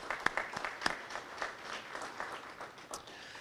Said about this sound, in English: A big round of applause for all our friends and partners.